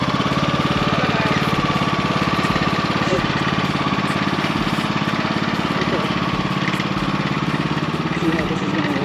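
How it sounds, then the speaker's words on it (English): A lawn mower engine runs steadily nearby, a rapid, rough, knocking putter that stays loud and constant throughout without pause. "So we got it off the trailer with the lawnmower."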